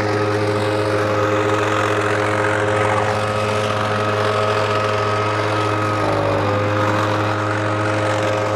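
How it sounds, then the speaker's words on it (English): A loud leaf blower runs steadily in a garden during a fall cleanup, blowing trimmed leaves off the beds. Its engine drones nearby without a break, with a steady low hum and a slight dip in pitch near the end. "Blowing all the leaves and such off of the garden that we had previously trimmed."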